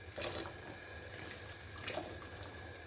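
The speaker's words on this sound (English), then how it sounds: "And just rinse it off." A detached dishwasher part is rinsed under a running tap, giving a steady, close splashing wash of water that continues throughout.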